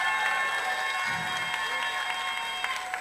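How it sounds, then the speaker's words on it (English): An audience at an award ceremony honoring women applauds, sustained moderate clapping heard at a slight distance, steady throughout with no speech. "Let's give her a big round of applause."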